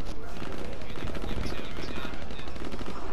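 Rapid machine-gun fire rattles loud and close throughout in a shooter video game, dense bursts filling the whole stretch, with a voice talking underneath.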